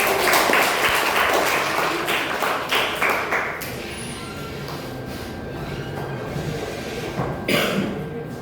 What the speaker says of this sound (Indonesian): Beri tepuk tangan pada kedua Kakak.